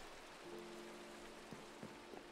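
Steady rain falling in the Minecraft video game, a soft even hiss with a few faint drop taps and no talk.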